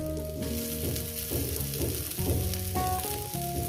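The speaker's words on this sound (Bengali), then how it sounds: "ধনে পাতাটাকে দিয়ে আরও এক থেকে দেড় মিনিট এটাকে আমি ভেজে নেব" Small mourala fish fry in a pan with onion and coriander leaves, giving a steady, soft sizzle that sits under louder background music throughout.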